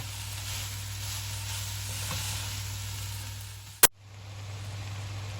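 Red cabbage sizzles steadily in a pan, a continuous close frying hiss with a brief sharp clack near the end, then the sizzle resumes slightly quieter.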